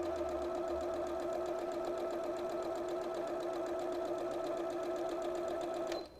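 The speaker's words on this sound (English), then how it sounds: "we're actually going to chain stitch these" A sewing machine chain-stitches quilt binding strips in one long, steady run without back-stitching, its fast even needle rhythm loud and close, then stopping abruptly at the end.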